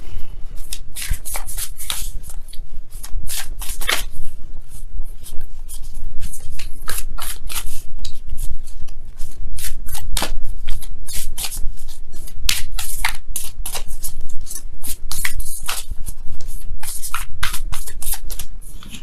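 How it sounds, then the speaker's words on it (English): A deck of tarot cards shuffled hard and continuously, with rapid riffling bursts and flicking snaps in an uneven rhythm, loud and close. "let me go ahead and really shuffle."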